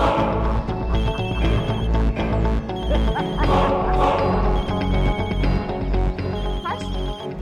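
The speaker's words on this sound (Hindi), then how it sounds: "तुम्हारा फोन बज रहा है।" A phone rings repeatedly in bursts beneath a busy, cluttered background with voices and other noises mixed in.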